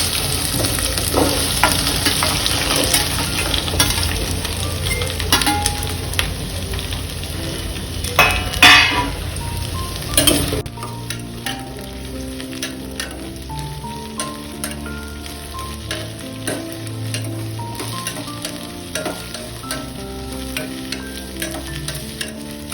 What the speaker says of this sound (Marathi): एका कढईत 2 चमचे तेल घेऊन तेल गरम झाल्यानंतर भेंडी मध्यम आचेवर चांगली परतून घेतली आहे